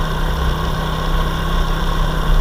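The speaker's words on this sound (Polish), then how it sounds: "Dam trochę gazu i tak fajnie się rozpędza." A quad ATV engine runs under steady throttle with a loud, close, continuous drone and no clear rise in pitch.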